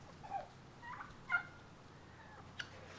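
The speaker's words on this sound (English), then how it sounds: "Chickens are waking up. They hear me" Chickens cluck softly in short, scattered bursts, a few calls spaced apart against a quiet background.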